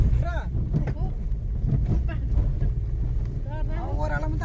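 A vehicle drives along a mountain road in Nuwakot, giving off a steady, close, low engine rumble with wind buffeting. People talk over it throughout.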